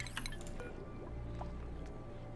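Water trickles and drips softly, with faint clinks over a steady low hum, in the colony-building game Oxygen Not Included.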